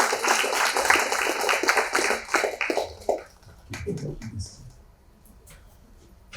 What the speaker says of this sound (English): A big round of applause for Anna Cherian as well.